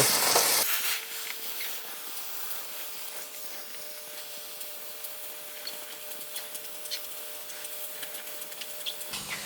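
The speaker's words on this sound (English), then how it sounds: "just when you're steaming, just keep the steamer at a bit of a distance" A handheld steamer hisses steadily while softening the adhesive behind a car badge, a continuous close, breathy rush with a faint tonal whine underneath.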